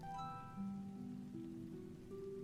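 Steady rain falls through the night in a soft, even wash, with faint sustained tonal music drifting under it and no voices.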